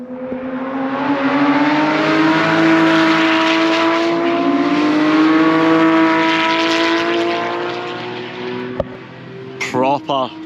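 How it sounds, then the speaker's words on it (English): Porsche GT3 RS and GT3 race cars on the track at Knockhill chase each other past, engines screaming loud and close with rising, sustained harmonic revs for about nine seconds, then a sharp cut and brief bursts as another car follows. "GT3 RS and a GT3 chasing each other."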